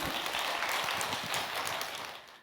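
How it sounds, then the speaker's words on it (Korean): Applause from a church congregation during a Sunday worship service, a dense steady patter of many hands that holds for the whole span and thins slightly toward the end, with no voices over it. "박수 하겠습니다."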